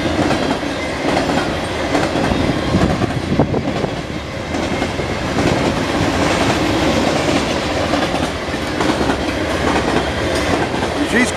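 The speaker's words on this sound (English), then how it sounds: "Should have another train coming by here pretty soon" A train rumbles past close by, a steady heavy roar with wheels clacking rhythmically over the rails, continuous throughout.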